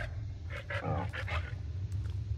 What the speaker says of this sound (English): Bad dog!